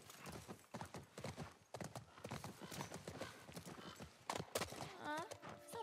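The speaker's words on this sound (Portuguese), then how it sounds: "Vou subir no cavalo." Horse hooves clip-clop in a steady rhythm while riding in the video game The Last of Us Part 1, close and clear, with a horse whinny near the end and someone talking over parts of it.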